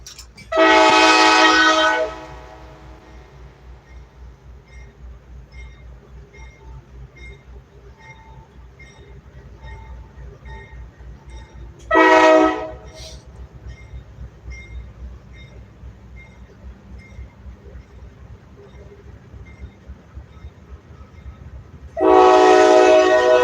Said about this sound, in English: I get sick of listening to trains all night.